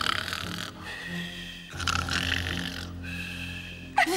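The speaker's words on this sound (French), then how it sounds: "Le plus gros ronfleur, c'est... Balou." A cartoon bear snores loudly in a French-dubbed animated series, with long rumbling inhales and wheezy exhales in a slow repeating rhythm, three snores close and clear with no talk.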